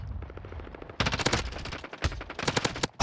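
P90 submachine gun fire in a Modern Warfare kill cam: rapid, sharp bursts of automatic shots, near and loud, with a brief pause near the middle before the rattling volleys resume.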